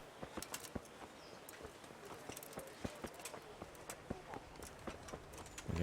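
A horse's hooves clop steadily along in the medieval game Kingdom Come: Deliverance, the horse fitted with silent shoes, giving soft, even, repeated thuds under light ambient noise.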